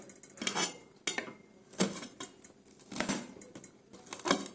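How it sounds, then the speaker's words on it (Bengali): A knife chops capsicum on a board in a home kitchen, with about six crisp, evenly spaced cuts landing close and clear with no talking. "এইভাবে সুন্দর করে কেটে নেব ক্যাপসিকামটাকে"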